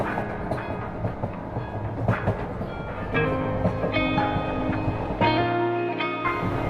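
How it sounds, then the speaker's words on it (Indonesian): A train rumbles steadily along the rails with rhythmic clacking and metallic squeals, a continuous close mechanical din without talk. "kereta yang berjalan di lintasan rel"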